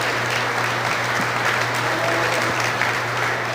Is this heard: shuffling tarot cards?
no